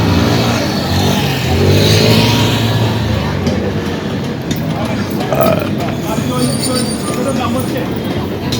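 A tram runs through a busy station in Istanbul near the Grand Bazaar, a loud steady rumble of wheels on rails with faint squeal throughout, under crowd noise and scattered voices.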